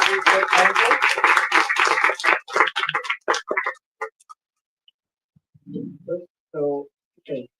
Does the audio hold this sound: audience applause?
yes